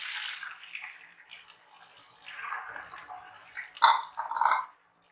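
Tamarind water is poured into a frying pan of spicy potatoes, a liquid splashing and gurgling pour that rises and swells near the end before stopping abruptly into silence.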